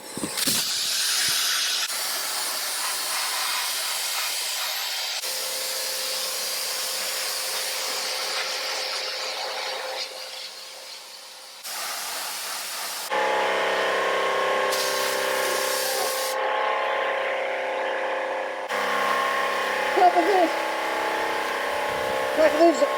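A sandblaster hisses against a Toyota FJ40 body in loud bursts of harsh air-and-grit rush, stopping and restarting in uneven stretches, with a voice heard at moments.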